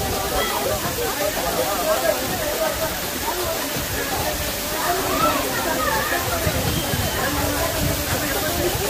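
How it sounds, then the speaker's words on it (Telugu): A waterfall on an Araku–Vizag trip gives a steady, loud rush of flowing water that fills the whole stretch, with faint voices in the background. "ఈ వాటర్ ప్రవాహం మనం చూస్తున్నాం. సౌండ్ అయితే ఎక్సలెంట్ ఉంది."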